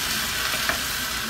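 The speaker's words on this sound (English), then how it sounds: "So the butter is almost done melting." Butter melts and sizzles in a pan with a steady, soft hiss and light crackle throughout, one brief louder pop near the end.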